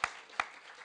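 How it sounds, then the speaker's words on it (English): Two sharp claps about a third of a second apart at a youth mock parliament sitting, fairly faint, with light room noise between them. "give them a round of applause for participating."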